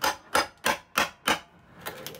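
A wide brick chisel is struck repeatedly while prying an old sink out of a boat's laminate countertop. Five sharp, evenly spaced close knocks are followed by a couple of lighter taps.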